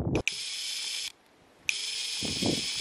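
A Parkside Performance PSBSAP 12 A 1 compact cordless drill driver in first gear, a steady whining motor hum in two bursts separated by a short pause, close and moderately loud, with faint handling clicks.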